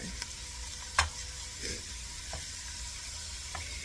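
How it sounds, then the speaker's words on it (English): Chopped onion drops into a hot soup pot for chicken tortilla soup, giving a steady, even sizzle with a sharp knock near the start and a few soft stirring scrapes. "Alright, all the onion goes in."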